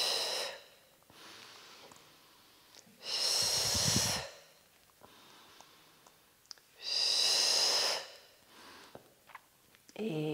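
Slow, deliberate breaths during a Pilates routine with a large exercise ball, two long loud breaths standing out among softer quiet breathing, with faint rustling between.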